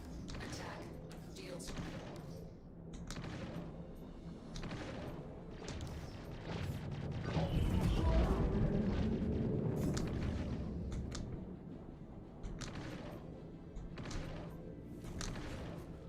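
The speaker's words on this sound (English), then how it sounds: "They're exploding." Combat in the video game Star Citizen: a distant-sounding barrage of gunfire and explosive thumps, building to a heavy rumbling swell midway before easing, with scattered sharp reports throughout at moderate level.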